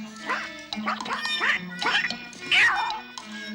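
A cartoon duckling gives a series of about five quacks, close and clear, evenly spaced, with no speech over them.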